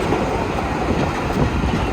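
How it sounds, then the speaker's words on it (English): A train rumbles steadily across a bridge near Dhanushkodi in Tamil Nadu, a close, continuous rolling roar with a faint rhythmic clatter of wheels and no voices. "पुल पे हमेशा ट्रेन धीरे चलती है"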